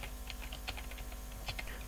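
Typing on a computer keyboard, a quick, steady patter of light key clicks heard close and soft over a low background hum.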